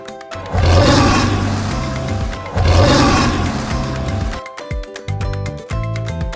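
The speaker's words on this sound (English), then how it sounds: "A lion, you've nailed it." A lion gives two long, powerful roars, each swelling and fading over about two seconds, set against bouncy background music that carries on after the roaring ends.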